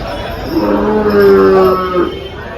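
An HF breed cow at a cattle market in Dhule moos once, a long, loud, close low call lasting over a second, with faint background noise.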